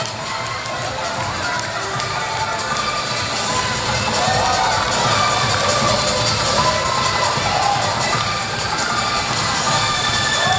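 Lively crowd cheering and shouting at an aerobic gymnastics competition, a steady dense roar of many voices with children's shrieks, sustained and loud throughout.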